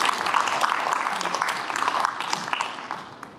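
Applause from the audience at the launch ceremony of a citizens' climate-crisis policy design group, a steady wash of clapping that fills the whole span and thins out near the end.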